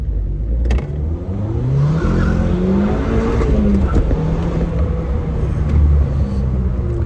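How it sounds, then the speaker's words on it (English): An Audi TT mk2 pulling hard in first gear, its engine rising steadily in pitch as revs climb, loud and close with a continuous rumbling roar and no talking. "Let's give it a bit of a first gear pull now."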